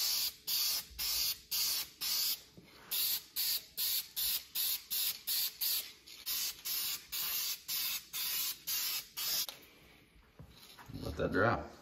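Primer is sprayed from rattle cans in a rapid series of short hissing bursts, about twenty evenly paced sprays, close and fairly loud, with a voice briefly heard near the end.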